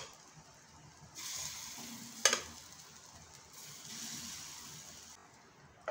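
Suji veggie appe batter poured into an oiled appe pan sizzles in two soft bursts of frying hiss, separated by a sharp clink of a utensil, quiet and close with no talk.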